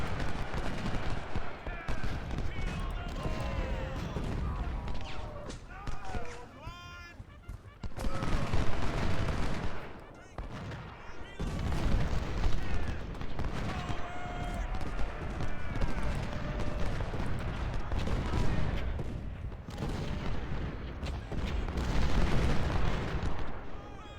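Cannon fire from an artillery battery in the Ultimate General: Civil War strategy game, with repeated heavy booms rolling into one another and sustained battlefield rumble throughout, a voice briefly audible among the blasts.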